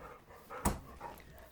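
A dog pants softly in a lodge, with a single sharp thump or snort in the middle and quiet breathy sounds around it.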